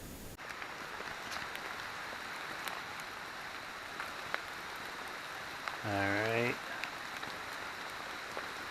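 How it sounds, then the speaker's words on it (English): Steady rain pours down, a dense continuous hiss close by, with a brief spoken word partway through. "I don't know if you can hear it or not, but it is pouring down rain."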